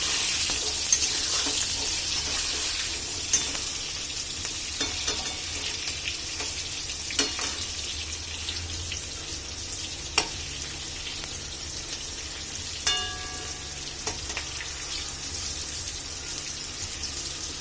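Eggplant frying in a pan with green chillies, a steady soft sizzle with occasional scraping stirs and clinks of a spatula, no voices.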